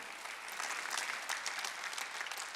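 A church congregation claps together during a Sunday worship service, a dense, even roar of many hands heard from within the hall, sustained for the whole stretch.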